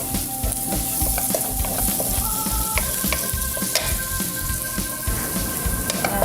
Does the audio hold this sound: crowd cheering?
no